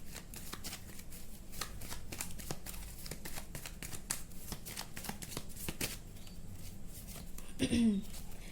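Tarot cards are shuffled and handled close up in a quiet room, a quick run of soft riffling flicks and slaps that is faint and continuous, with a brief murmur near the end.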